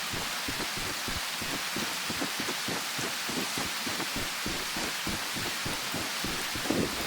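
Rain pouring in a survival video game, a dense constant wash of drops with a low rumbling undertone, loud and unbroken throughout.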